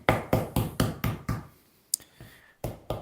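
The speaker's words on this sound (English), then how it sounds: "if you give it a little tap like this" Chilled pastry dough is knocked against a floured work surface with a rolling pin: a quick run of six firm, close thumps, a pause with a faint tap, then two more knocks.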